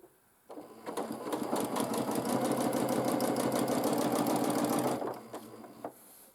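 Sewing machine quilting a fabric wall hanging, a fast even rhythmic clatter running continuously for about four and a half seconds before stopping, close and clear.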